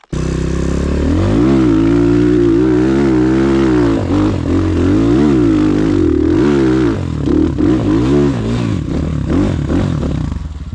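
A Rottor Bronx 300 dirt bike engine revs up and down repeatedly, loud and close, its pitch rising and falling in quick sweeps.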